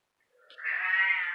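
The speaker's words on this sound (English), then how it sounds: "These are the three pretty little kittens out of Akira." A single thin, rising meow from one of three newborn kittens, close and fairly clear against near silence.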